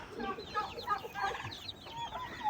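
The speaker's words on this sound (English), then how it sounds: "A mix of silky chickens and Brahma chickens." Young silkie and Brahma chickens, five-week-old chicks in a mixed flock of sixteen, clucking and chirping continuously in overlapping bursts, close and moderately loud with no talk.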